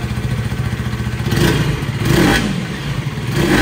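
A KTM Duke 250 motorcycle engine runs steadily nearby, with two rising revs swelling briefly at about one and a half and two and a quarter seconds before settling back toward a rough, pulsing idle; no voices.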